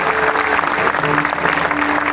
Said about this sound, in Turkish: Bir alkış rica ediyoruz efendim.